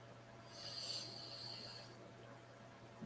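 A breathy exhale through pressed lips, a single sustained airy hiss-like trill of about one and a half seconds, fairly close, alone with no talking.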